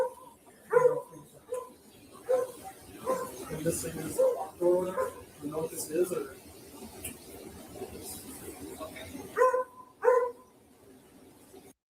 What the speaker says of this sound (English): That's the canine dog, obviously barking from the vehicle